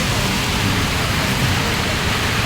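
Heavy rain pours down in a steady, dense roar, loud and continuous with no breaks or voices.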